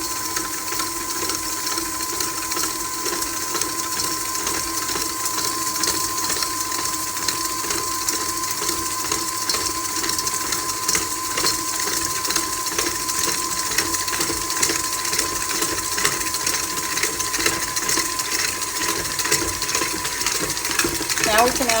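Electric mixer whirring steadily as it blends half a cup of white sugar and a cup of brown sugar for oatmeal raisin cookies, a continuous mechanical drone with faint rattling, running alone at even loudness throughout.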